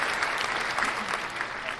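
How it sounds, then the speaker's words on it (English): Canned applause sound effect on a podcast, a steady burst of clapping and light crowd noise lasting under two seconds, moderately loud and without talk over it. "A little bit of applause for navigating."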